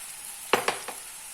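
Jackfruit sautéing in a pan with turmeric and salt gives three brief stirring scrapes over a quiet, steady hiss, the first two louder and close together, the third softer.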